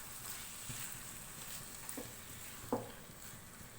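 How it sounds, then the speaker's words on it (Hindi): Chicken keema mixed with yogurt sizzles softly in a pan, with a low, steady frying hiss and a few faint scraping stirs of a spoon against the metal. "मिक्स कर लेंगे इसको भी।"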